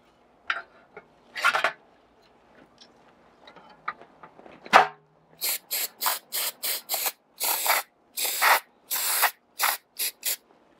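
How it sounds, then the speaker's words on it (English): Spray cleaner blasted into the chamber of an inverted rifle upper receiver, a rapid series of short, sharp hissing bursts close by, after a few quieter clicks and handling noises. "I'm going to spray into the chamber"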